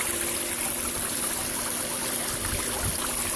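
Pond fountain driven by an Intex 2500 GPH pump, valve opened under 40%, splashing into a fish pond; a steady, close wash of falling water runs continuously with no talk.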